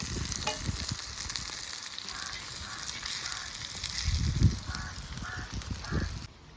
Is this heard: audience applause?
no